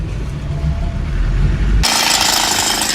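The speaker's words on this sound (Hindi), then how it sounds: "भाई हैमर मशीन लाया बड़ी वाली, और इससे दे रहा है दमादम इसके अंदर" A large hammer machine pounds at something buried in the ground, where a motorcycle may be trapped, with a loud, steady, dense jackhammer rattle that turns sharper and brighter partway through, and no talking.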